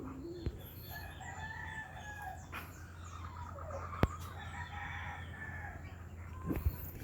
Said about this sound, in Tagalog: Ito yung mga alaga nating manok guys.